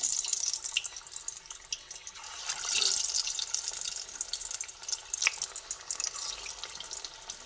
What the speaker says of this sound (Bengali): এক এক করে কোপ্তাগুলোকে তেলের মধ্যে দিয়ে দিচ্ছি